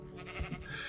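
A single short, faint sheep bleat from the TerraFirmaCraft game, heard alone and quiet.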